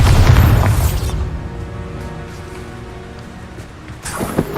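The Bombarda explosion spell in the video game Hogwarts Legacy lands as a loud, deep boom, then rumbles down over a few seconds before a burst of further crackling debris.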